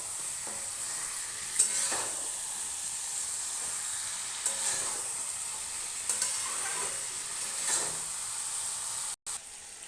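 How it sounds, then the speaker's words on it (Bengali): Mutton sautéing in oil in a pan gives a steady, bright sizzle and hiss, with soft periodic scrapes from stirring every couple of seconds, heard close with no voices. "আরও একটু কষিয়ে নেবো অনেকক্ষণ ধরে"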